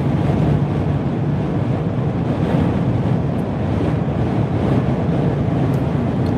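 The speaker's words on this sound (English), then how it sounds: "We're chasing the wind today, boys." Strong high wind during a North Dakota high wind warning, roaring steadily and loudly into the microphone as a constant, dense rumble with no breaks and no talking.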